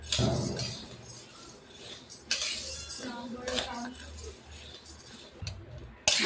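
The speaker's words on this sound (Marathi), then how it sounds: "डाळ मस्त अशी मी आता हलवून घेत आहे, म्हणजे छान अशी भाजून घेत आहे" A spoon stirs chana dal as it dry-roasts in a metal pan for chakali bhajani, giving repeated scraping clinks and metallic knocks in irregular bursts at close range, with a voice talking faintly in between.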